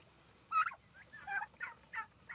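Turkeys gobble in a quick run of rattling calls, several bursts in succession, moderately close against a quiet background.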